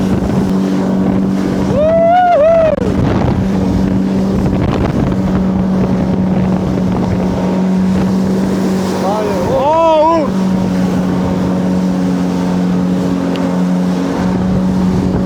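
A jet ski engine drones steadily while riding on water, with wind buffeting the microphone and two rising revs as the throttle opens; voices shout briefly over it.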